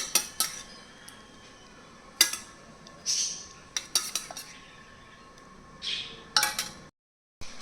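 A spoon clinks and taps against a bowl in sharp, scattered strikes while argan oil and flaxseed gel are mixed into a hair mask, with quiet gaps between strokes.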